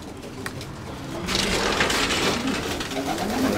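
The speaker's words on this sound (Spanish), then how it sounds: "Ahí están las palomillas" Racing pigeons in their loft coo in soft, repeated murmurs close by, with a burst of fluttering and rustling partway through. No voices are heard.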